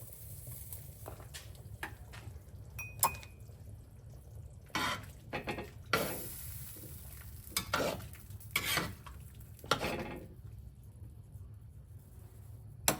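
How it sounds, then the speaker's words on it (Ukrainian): Whole potatoes dropped into a bubbling bograch stew in a cauldron, landing as several sharp splashy clunks over a steady simmering, sizzling bed, fairly close and with no voices. "дивлюсь, що у нас там все кипить і бурлить, і закидаю туди всю картоплю."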